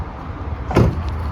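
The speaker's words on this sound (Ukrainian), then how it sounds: "Двері відчиняються, дивіться." A vehicle door opens with a brief clunk and rattle over a steady low rumble of background noise, with no voices.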